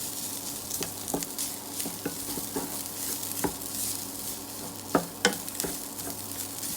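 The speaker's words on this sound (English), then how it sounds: "So now we're going to go in with our rice and straight in with our rice. So I'm going to break that up. Stir." Rice being stirred in a hot frying pan for fried rice: a continuous sizzle broken by irregular scraping taps of the utensil against the pan, with a couple of sharper knocks near the end.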